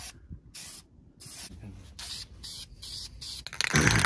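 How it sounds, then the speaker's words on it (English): Spray paint goes on as a second coat over a Honda valve cover during an EG engine swap, in several short close hissing bursts separated by brief pauses, with a louder, rougher burst at the end. "Alright, now for the second coat."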